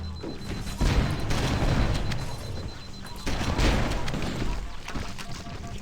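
Sustained gunfire and booming blasts in the Halo video game, a dense wash of shooting near a ship's gravity lift with loud bursts swelling around the first and third seconds, constant and close.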